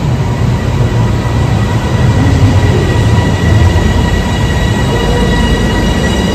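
Bangkok metro Red Line train running at a loud, steady roar from close by, with rail rumble, wheel noise and faint squealing throughout, no talk heard.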